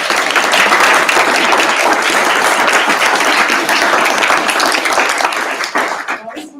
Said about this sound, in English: Let's give our students a final round of applause.